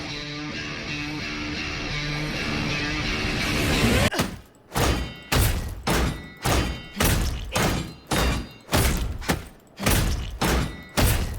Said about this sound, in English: You just punch dudes in the face